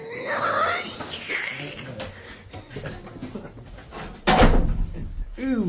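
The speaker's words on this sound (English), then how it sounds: "Ooh, shut that door." A door slams shut out in a forest at night, one loud heavy bang cutting through the middle of the scene, with talking and scattered rustling around it.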